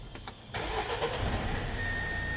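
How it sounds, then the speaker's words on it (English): A Renault Trafic van's engine starts on a push button: a brief cranking whir, then it catches and settles into a steady, fairly loud idle close by. "Starts on the button."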